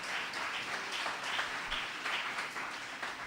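Congregation applauding in church during worship, a faint but continuous wash of many hands clapping at an even level throughout.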